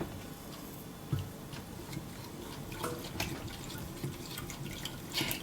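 A spoon stirring a mixture of dry yeast, a teaspoon of sugar and warm milk, giving faint, scattered clinks and liquid swishes close by, with no talking.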